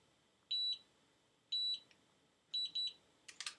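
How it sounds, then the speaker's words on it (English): Automatic hair curler beeping when done: short high electronic beeps, two single ones a second apart and then a quick double beep, faint and clean against near silence, followed by light clicks. "And when it beeps twice like that, it's done."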